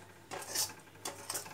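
A spoon scraping and stirring thick raw banana peel paste around a kadai, two bursts of close, bright metallic scraping separated by a brief pause.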